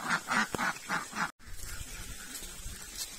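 A few ducks quack outdoors in a short run of five rhythmic, nasal calls, followed by a brief cut and then low, muffled background noise.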